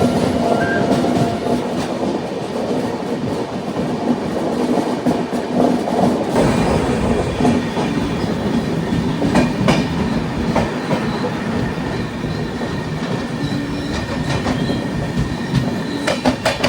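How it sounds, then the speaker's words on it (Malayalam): A passenger-type NMG train hauled by a WP4 locomotive roars past at close range, a loud continuous rumble with rhythmic clickety-clack of wheels over rail joints and occasional squeals, no talking. "WP4 ആണ് അതിനെ ലീഡ് ചെയ്തുകൊണ്ട് പോകുന്നത്"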